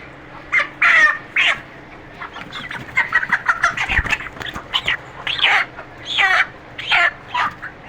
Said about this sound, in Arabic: دي فراخ بنيهات